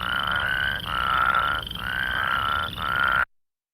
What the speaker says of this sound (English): And our two toads, that plain Spadefoot with those kind of whirring noises.